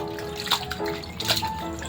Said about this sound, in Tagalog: Jem, lagyan mo ng tubig itong ano.